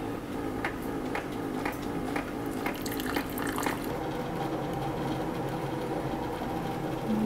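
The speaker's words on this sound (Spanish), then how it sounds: "Entonces ya solo le saco agua caliente, le mido para el tamaño de mi taza" Hot water streams from a dispenser into a cup, a steady splashing pour with a few brief clicks near the start, continuing evenly and fairly close with no talking.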